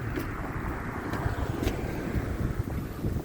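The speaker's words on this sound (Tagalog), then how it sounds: "It's cold. It's very cold. It's windy." Blustery wind buffets the microphone on a cold winter morning walk outdoors with a little snow around, a steady broad rumble that stays strong and close throughout.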